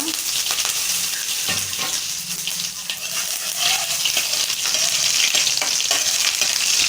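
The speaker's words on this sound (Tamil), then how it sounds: "கடுகு பருப்பு நல்லா பொரிஞ்சிருச்சு" Mustard seeds and dal spluttering in hot oil for a dry fish gravy, a dense, loud, close crackling sizzle with rapid pops that continues without a break, with no voices.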